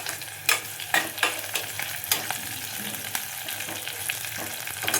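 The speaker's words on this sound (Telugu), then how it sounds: "ఇలా మంచిగా వేగిపోవాలి." Meat for curry fries in a pan with a constant loud sizzle, while a spoon stirs and scrapes it in regular strokes, roughly one every half second, up close with no talking.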